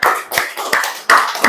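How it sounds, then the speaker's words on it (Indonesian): Classroom of students clapping for a group, heard as a few distinct bursts of clapping with brief gaps between them, close and fairly loud, with no talking. "Beri tepuk tangan yang meriah untuk kelompok 2."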